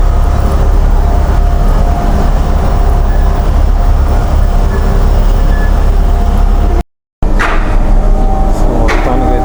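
Steady low rumble and rattle of a moving train carriage on a ride in Paris, loud and continuous, broken by a brief dropout near the end and a few squeaks and clatters afterward.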